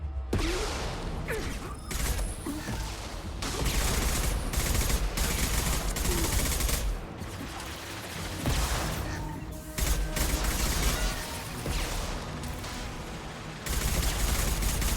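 Gunfire in the shooter game Mass Effect 2 rattles in repeated loud bursts of rapid shots with brief pauses between volleys, sustained across the whole stretch.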